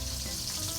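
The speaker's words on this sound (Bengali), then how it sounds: "আমি জাস্ট বেগুনগুলোকে তেলে এভাবে করে দিলাম যে একটু বেগুনগুলো হালকা ফ্রাই হবে।" Eggplant pieces lightly frying in hot oil on a stove, giving a steady, close sizzle with no pauses and no talk.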